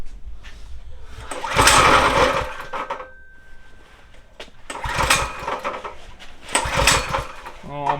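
A Nissan G35 with an LS engine swap cranks in several harsh bursts without firing, the starter churning loudly up close while people talk over and between the attempts.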